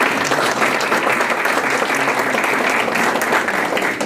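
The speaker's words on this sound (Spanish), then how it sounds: "pido también un fuerte aplauso para el consejero maestro Joaquín García Hernández" An audience at a Spanish-language book presentation applauds to welcome counselor Joaquín García Hernández. The applause is dense and steady at full volume for the whole stretch, with no talking.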